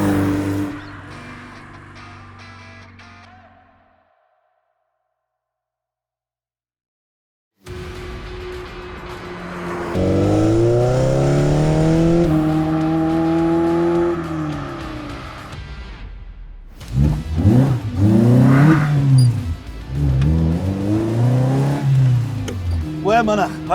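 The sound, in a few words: Lotus Elise Series One sports car driving and revving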